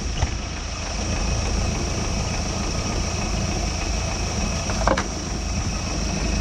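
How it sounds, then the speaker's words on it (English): A Mercruiser boat engine idles steadily with freshly rebuilt carburetor components, a continuous low rumble close by with one brief clank partway through. "that carburetor, that rebuild worked pretty good. Fires right up now."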